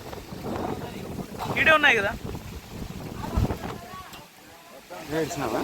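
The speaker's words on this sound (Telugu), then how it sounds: "గాలి విపరీతమైంది" Strong wind buffets the microphone in steady gusts at Srisailam while people talk nearby, with an open outdoor feel.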